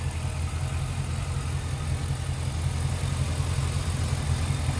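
A 1985 Chevrolet C10 Silverado show truck with an LS2 V8 engine idling, a smooth, steady low rumble that stays close and even for the whole stretch without revving.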